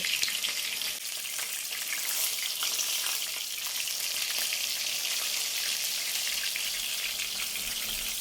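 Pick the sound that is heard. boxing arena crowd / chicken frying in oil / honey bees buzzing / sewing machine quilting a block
chicken frying in oil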